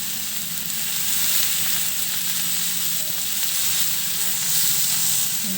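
Small puti fish frying in a pan, with a steady close sizzle and faint scraping as they are stirred, no voices.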